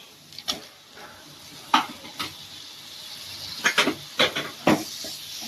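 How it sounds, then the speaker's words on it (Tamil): Prawns dropped into a hot pan for green prawn curry give a steady sizzle and hiss, broken by several scraping stirs and clatters of a utensil against the pan, close and fairly quiet. "இப்போ நான் ப்ரானை சேர்த்துக்கிறேன்."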